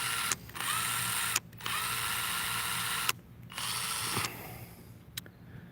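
A DeWalt XTREME 12V brushless impact driver (DCF801) runs on its low setting in several sustained whirring bursts of about a second each, separated by short pauses, heard close and alone.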